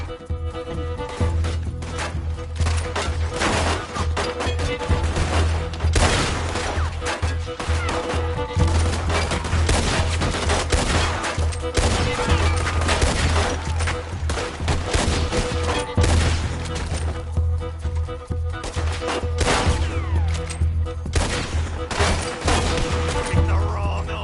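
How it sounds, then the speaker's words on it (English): Rapid, sustained gunfire from a Gatling gun in the Western video game Red Dead Redemption 2, dense bursts and shots running throughout amid battle noise, with occasional voices in the mix. "That boys wanna get on the Gatling gun."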